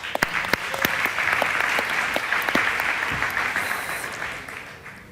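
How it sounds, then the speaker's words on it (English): An audience at the South Summit 2016 Arena Stage claps for a speaker, dense steady applause with a few sharp nearby claps, fading slightly toward the end. "So please, an applause."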